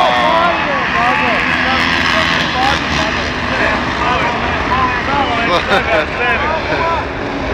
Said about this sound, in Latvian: Pirmie motocikli jau rūs